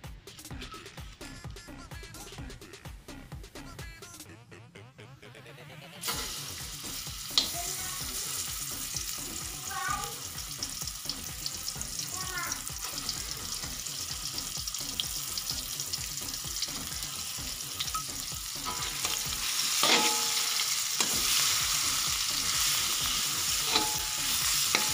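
Spice paste sautéing in a little oil with bay leaves and lime leaves, a close, crackling sizzle that swells once the paste hits the pan, with intermittent stirring scrapes over the frying.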